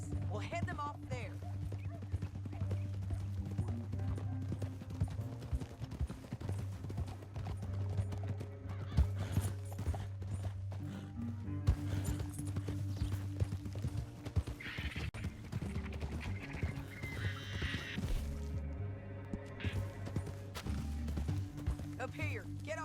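Horse hooves clip-clop at a steady gait in Red Dead Redemption 2, with occasional neighs and whinnies, a low droning hum beneath, and characters' voices talking over the riding.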